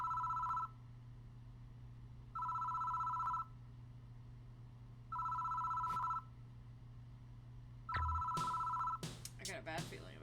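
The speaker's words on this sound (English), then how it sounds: "Don't answer the phone. It doesn't seem to want to stop ringing" A telephone ringing in the horror video game Spirit Hunter: NG, four evenly spaced electronic rings of about a second each with short gaps between them, over a low steady hum, followed by a brief voice.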